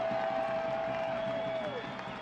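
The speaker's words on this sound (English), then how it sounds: "The crowd loves it." Stadium crowd at a soccer match between FC Naples and Greenville Triumph SC applauding and cheering in a steady, dense roar, with a long whistle-like tone over the first stretch and a commentator's voice woven through.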